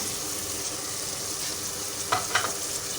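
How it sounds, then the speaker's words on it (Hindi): Chopped tomato frying in a pan with chicken korma masala, a steady soft sizzle with two brief stirring scrapes near the end, close and fairly quiet. "अब हम इसके अंदर टमाटर डालने लगे हैं।"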